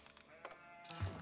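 A short sheep bleat from Age of Empires IV sounds faintly near the end, preceded by quiet clicks and soft game sounds.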